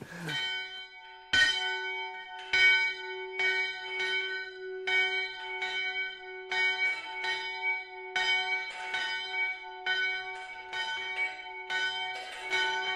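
Convent church bell at the Clarisses monastery in Ronchamp rings in steady repeated strokes, each clang ringing on with a sustained humming overtone, continuing evenly throughout.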